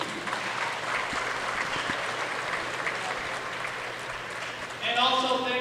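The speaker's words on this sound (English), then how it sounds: "So give a round of applause for Korah 22," Applause for a high school basketball team at a city championship game, a dense spatter of clapping that carries on throughout, with a short vocal sound rising near the end.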